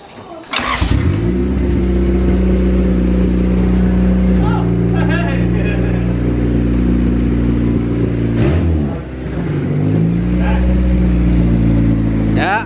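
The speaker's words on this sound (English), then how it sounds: "this is the first start since taking this motor out of the other car and into its new home" A swapped Subaru EJ20 turbo engine, newly moved from another car into an EF hatch, fires up for its first start and revs repeatedly, loud and close, with throttle blips rising and falling over a steady rumble while people talk nearby.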